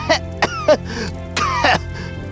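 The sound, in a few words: child coughing violently, audiobook sound effect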